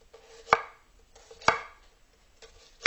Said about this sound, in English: You want to make nice thin slices.